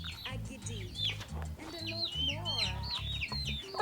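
Chickens in a Ugandan village clucking and chirping in quick, repeated bursts as they are fed, with a steady low rhythmic thumping beneath them.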